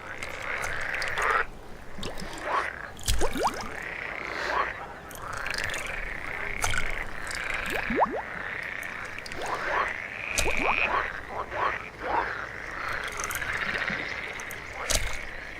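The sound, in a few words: alpine frogs croaking in a pond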